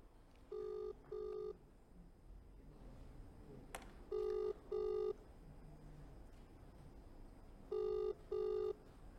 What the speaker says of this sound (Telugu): అఘోరీ ఫోన్ రింగ్ అవుతోంది, కానీ ఆమె ఆన్సర్ చేయడం లేదు.